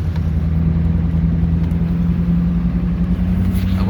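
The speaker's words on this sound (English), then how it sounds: "Oh, we're driving." A Duramax diesel pickup with an Allison 5-speed transmission rolling down a street, heard from inside as a loud, steady low engine rumble and drone that holds even throughout, with no talking.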